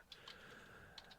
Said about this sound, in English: Spider-Man visits J. Jonah Jameson, who is typing